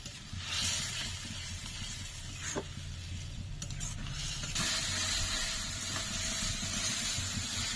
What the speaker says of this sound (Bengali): মশলাটা খুব সুন্দর করে কষে নেব